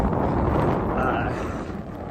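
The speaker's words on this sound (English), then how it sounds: "Ooh, that wind is chilly." Chilly wind buffets a microphone during an outdoor run, a steady broadband roar and rumble that fills the whole stretch without letup.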